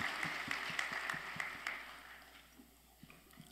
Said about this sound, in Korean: Let's give a hand to our young parents who have brought their young children to be blessed today.